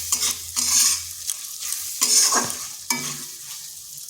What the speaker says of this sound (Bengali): ভালোভাবে এগুলো মিশিয়ে নিচ্ছি।